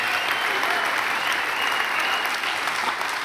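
Audience at a men's church retreat session giving sustained, dense applause, many hands clapping loudly and evenly throughout with a faint murmur of voices.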